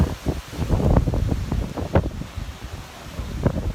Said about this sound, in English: This is what you'll experience, a lot of high winds and the occasional very high gust of wind.